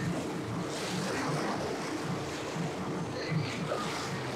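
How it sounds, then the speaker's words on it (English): Ocean waves surge and wash around a fishing outing, a steady, broad roar of surf mixed with gusting wind buffeting the microphone, close and continuous without talk. "them waves be out here"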